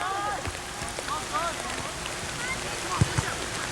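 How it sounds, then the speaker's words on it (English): Steady rain falls over an outdoor college soccer match between Kenyon and Bethany in 1994, a constant wash of patter and wind with faint distant voices and a couple of brief knocks. "Weather conditions here. Rain again slowing down again."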